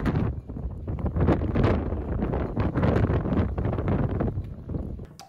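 Strong, steady wind buffeting outdoors, roaring and gusting continuously with broadband rushing noise throughout.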